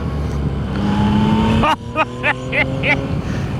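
A Yamaha MT-09 motorcycle engine winds up with rising pitch, then cuts and blips several times in quick bursts, loud and close.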